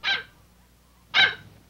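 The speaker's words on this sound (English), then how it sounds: "What's all the barking about?" A happy dog gives two loud, sharp barks about a second apart on arriving home in an animated children's show, with quiet between them.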